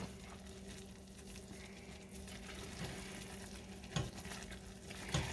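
A spoon stirs a crackle candy mixture in a pan over graham and saltine crackers, making a low, even bubbling sizzle with a few soft scrapes and taps; no speech.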